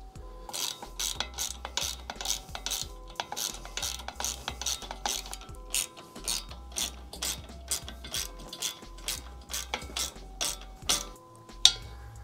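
A hand ratchet tightens bolts on boat trailer steps being fitted to a Lund Pro V boat trailer, giving steady, rhythmic clicking strokes in repeated runs with brief pauses, close and crisp, with no talking.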